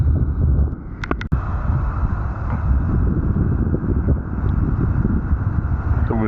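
Strong outdoor wind buffets the microphone in a constant low roar, with a couple of brief sharp knocks early on.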